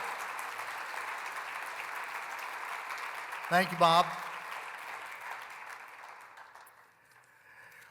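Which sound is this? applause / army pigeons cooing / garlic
applause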